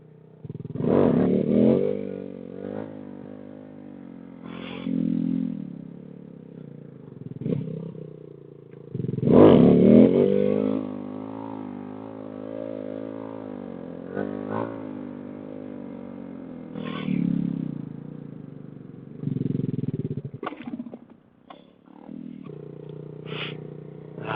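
A motorcycle doing circle wheelies, its engine revving and surging in repeated bursts with rising and falling pitch as it loops around, loud and close with gaps of quieter idle between pulls.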